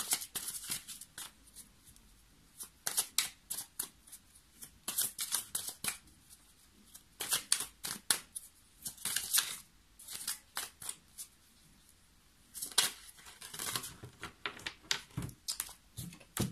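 Romantic tarot cards being shuffled and drawn, giving a steady run of soft, crisp riffles and flicks close to the microphone, with brief pauses between handfuls and no voice over them.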